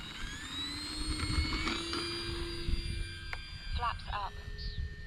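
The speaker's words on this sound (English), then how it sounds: "Good looking little plane." Small E-flite RV-7 electric RC sport airplane on a 3S battery flies past with a thin motor whine that rises and falls, fairly faint, under outdoor background with bird-like chirps near the end.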